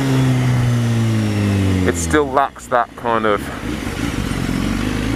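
BMW S1000RR HP4 sportbike engine revving loudly and close, with a steady drone that breaks into sharp throttle blips and rising pulls midway, someone talking over it throughout.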